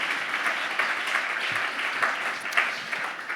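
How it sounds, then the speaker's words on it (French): Audience applause in a conference hall at a talk on responsible fashion, a continuous dense patter of clapping at moderate level, unbroken throughout. "je vous demande de les applaudir"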